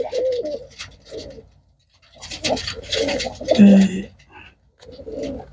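Pigeons at a bird sale, soft cooing and rustling in short bursts close by, with someone talking over them and pauses of near silence between.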